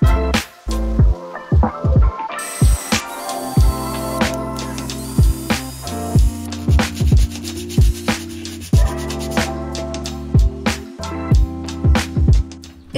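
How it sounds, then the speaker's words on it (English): A scrap wood board is sanded smooth by hand. Rhythmic rasping strokes come up close and loud, one after another, with a steady scratchy texture and no talking. "I sanded down the piece to smooth out the surface"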